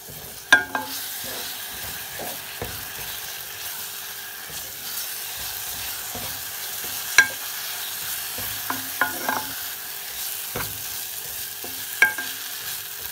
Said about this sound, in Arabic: هلأ منحط فوقه سميد، منحركن مع بعض.